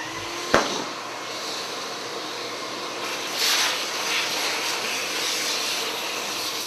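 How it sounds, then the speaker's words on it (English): A shop vac clears router chips from a woodworking piece with a steady, loud rushing roar throughout, starting just after a brief sharp click. "So I'll go over and I'll grab the shop vac and clear this out."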